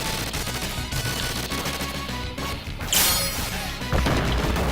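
Enemy gunfire in the Teenage Mutant Ninja Turtles arcade game crackles in quick bursts through busy music and crashing hit sounds, loud and nonstop across a brawl.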